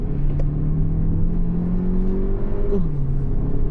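A Chery Tiggo revs up and pulls away steadily from a standstill, its pitch rising as it accelerates, with a low rumble underneath.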